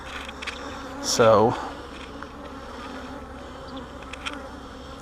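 Honey bees buzz steadily around an open hive during an inspection for queen cells, with one louder bee passing close by and someone speaking briefly.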